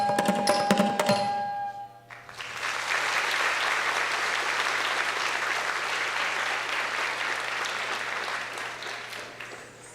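At a Sruthi Rangapravesam recital, a hall audience breaks into sustained applause for the sisters' performance as the last sung notes end. The clapping swells quickly and holds steady for about eight seconds.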